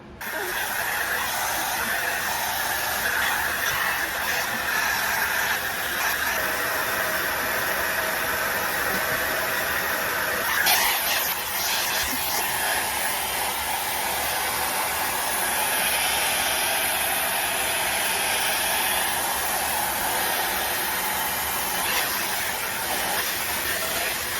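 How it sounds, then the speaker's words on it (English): A Dyson hair dryer blows hair dry at home with a loud, constant airy whoosh and hiss that fills the whole stretch without pause, shifting slightly as the airflow moves. "I'm gonna blow dry with my Dyson"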